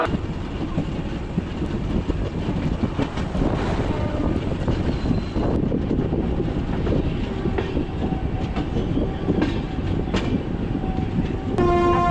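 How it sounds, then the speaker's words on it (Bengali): A train pulls in and comes to a stop at Visakhapatnam station in Andhra Pradesh, its heavy rumble and rattling wheels loud and close throughout, with a horn-like tone near the end and no talking. "তো আমার ট্রেন এখন এসে দাঁড়ালো অন্ধ্রপ্রদেশের বিশাখাপত্তনম স্টেশনে"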